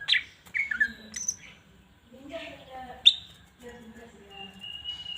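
A green leafbird (cucak ijo) gives sharp, bright chirps and whistled notes in quick spurts, close by, with softer lower murmurs and gaps between calls.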